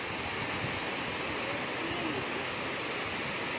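Floodwater rushes loudly through a river at Hinulugang Taktak during a heavy flood. A steady, broadband roar with no breaks continues at a constant level throughout.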